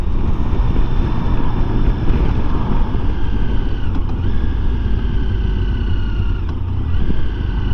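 Strong gusty wind buffets a motorbike rider on the open road, a loud, continuous roaring rush that swells and dips steadily, with engine drone mixed underneath.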